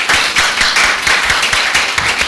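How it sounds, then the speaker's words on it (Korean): Church congregation applauding together after a closing prayer, a dense continuous clapping texture with steady rhythmic pulses, close and full, with no talking over it. "우리 하나님께 영광의 박수 올려드리겠습니다"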